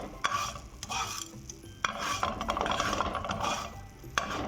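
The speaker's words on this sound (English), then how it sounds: "Meanwhile, you can roast this coriander. Roast it till it becomes crispy." Coriander seeds dry-roasting in a pan, rattling and scraping as they are stirred, with a faint crackle underneath and a few sharper knocks of the spoon, close and moderately loud.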